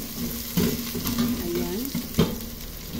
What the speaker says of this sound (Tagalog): ilagay ko na din yung aking lemongrass. Sabay na natin yan dyan. Pag-isa-gisa yung ating lemongrass.